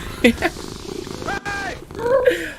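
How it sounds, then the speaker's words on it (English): A cat purrs and makes small cute kitty noises in an Owl Kitty clip, brief chirpy sounds over a soft low rumble, with some voice-like tones mixed in. "The little kitty noises are too good."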